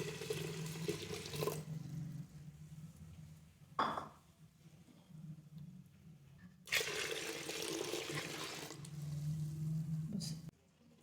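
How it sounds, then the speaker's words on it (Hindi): Water pours into whole masoor lentils in a pressure cooker, heard as two close, splashing bursts separated by a quieter gap and a short splash between them. "अब इसमें इस दाल की मुनासबत से हमने पानी डालना है"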